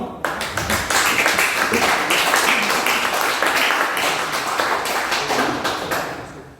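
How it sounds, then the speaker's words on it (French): A sizeable audience claps steadily in a dense, continuous patter that begins abruptly and holds for several seconds at full strength before easing slightly near the end. "On peut encore vous applaudir"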